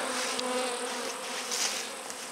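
Honeybees buzzing in a steady, dense drone around honey frames drying at an apiary after the honey harvest, with super boxes removed; a continuous swarm hum, close and fairly loud, with no talk.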